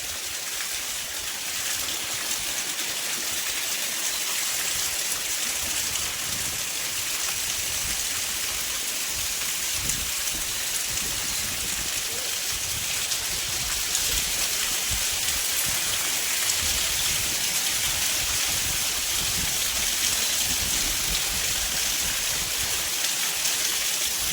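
Steady rain pours down over a farm field that has filled with water, a dense, continuous hiss of drops on wet ground that holds at the same level throughout, with no voices.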